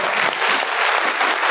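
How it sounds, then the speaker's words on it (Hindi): Seminar audience clapping together at an RCM Business event, a dense, steady wash of applause filling the whole moment without a break. "एक बार ताली बजा लो शरीफों वाली"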